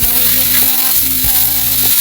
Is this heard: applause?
no